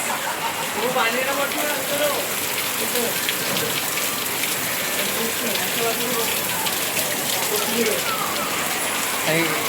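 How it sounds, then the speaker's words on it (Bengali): Heavy rain pours down steadily during a sudden downpour, a dense, constant hiss of water on surfaces with scattered drips throughout and no talk. "পানিটা তোমাদেরকে দেখাচ্ছি কীরকম পরিমাণ পানি বৃষ্টি হচ্ছে"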